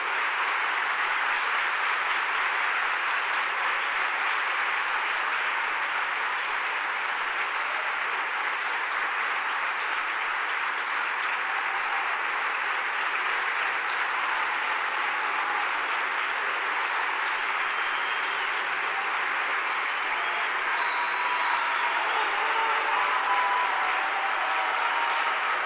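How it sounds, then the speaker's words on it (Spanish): Long, sustained applause from a congress audience in Buenos Aires welcoming a speaker to the stage, a dense even wash of clapping that holds steady for nearly half a minute and swells slightly near the end. "les pido que reciban con un fuerte aplauso a Rafael Echeverría."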